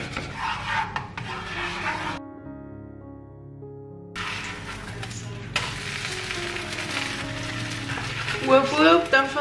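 Pancake batter fries in a pan with a steady sizzling hiss, broken by a quieter humming gap midway, then the sizzle resumes alongside scraping and a brief voice near the end.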